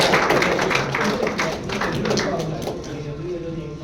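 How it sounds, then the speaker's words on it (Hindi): Scattered hand clapping rises and fades at a prize draw for Santoor distributors, quick uneven claps thinning out over a few seconds while someone speaks over them. "ताली बजाओ भाई."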